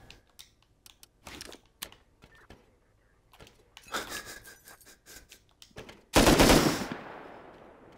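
Gunfire in the Rust console video game on a custom server: bursts of rapid automatic shots, crackly and close, spread through the clip with quiet gaps, ending in a loud, sustained volley that trails off.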